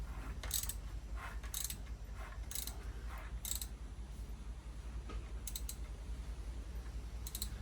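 Faint mechanical clicks and ratcheting ticks come at irregular intervals as the crankshaft of a 1981 Suzuki GS550 motorcycle engine is turned by hand, over a low steady hum.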